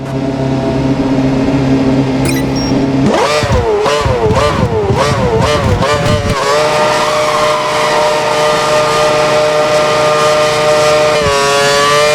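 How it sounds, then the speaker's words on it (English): Formula 1 race car in the F1 2013 video game accelerating hard down the track, engine screaming upward through several quick gear changes, then holding a loud high-pitched whine before the next shift. "Head down the track accelerating past 257 kph, then brake so that you come to a complete stop in the designated area"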